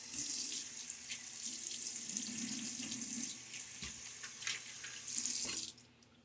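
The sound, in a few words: water tap running for rinsing after shaving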